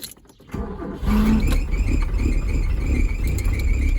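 A 1986 Peugeot 205 GR barn-find engine cranks briefly and catches, then settles into a steady, loud idle close by, with no talking.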